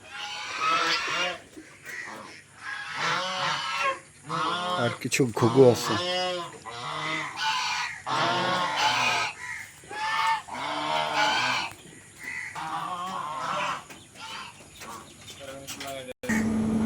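Geese honk repeatedly on an integrated farm with poultry and layer hens, mixed with other fowl calls beneath near, steady talk that runs through the whole stretch.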